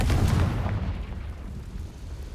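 A Confringo fire spell blast in Hogwarts Legacy booms out loudly at the start, then a rumbling burst decays steadily into low, dull reverberation over a couple of seconds.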